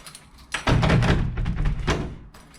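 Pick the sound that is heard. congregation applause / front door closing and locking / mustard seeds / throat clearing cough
front door closing and locking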